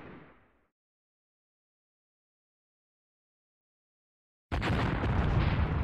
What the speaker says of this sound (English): We're gonna be completely decimated by that mortar strike.